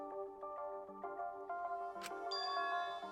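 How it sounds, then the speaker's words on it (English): A doorbell in the video game Danganronpa V3 chimes a couple of times around the middle, ringing over steady, tonal background game music. "With the doorbell still ringing"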